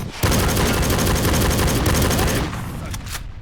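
Dense rapid gunfire and explosions in the 2007 shooter game Soldier of Fortune: Payback, a loud sustained barrage of crackling shots and booms that drops to a lighter scatter of bursts near the end.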